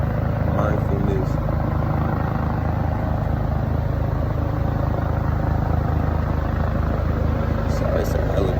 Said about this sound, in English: sorry, it's a helicopter or something.